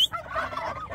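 A turkey gobbles loudly and close by, a single rapid, warbling burst of calls filling the short moment with no talk over it.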